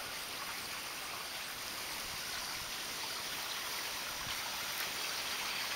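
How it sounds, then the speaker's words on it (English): A small waterfall in a backyard rock garden gives off a steady, broad rushing splash of falling water. It runs evenly throughout with no voices. "And it goes around my waterfall."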